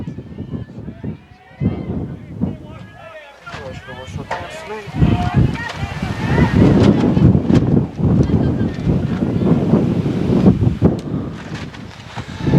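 Wind gusting outdoors at a college softball game, a steady broadband rush that rises and stays loud after the first few seconds, with voices talking over it.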